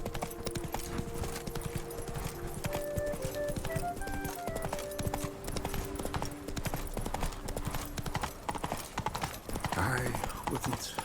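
Rapid, rhythmic clip-clop of a horse's hooves trotting in The Witcher 3: Blood and Wine, close and steady, with a faint musical tone and ambient game sound underneath.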